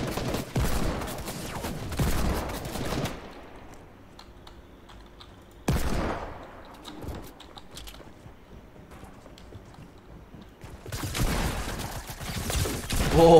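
Gunfire in Fortnite from a legendary handgun: loud bursts of shots in the opening seconds, another burst near the middle, and a renewed loud barrage at the end, with quieter game ambience between.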